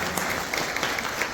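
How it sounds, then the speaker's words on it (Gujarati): An audience applauding at a senior citizens' forum celebration, a brief burst of dense clapping at steady moderate level with no voices heard. "એમના માટે ખાસ તાળીઓથી અભિનંદન આપો"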